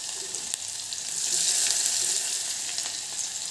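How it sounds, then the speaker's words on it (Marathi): Chopped onion, curry leaves and black pepper fry in hot oil for a millet soup, a steady close sizzle with a brief swell of stronger crackling midway and occasional small pops, no voices. "आणि छान फ्राय होऊ द्यायचं आहे।"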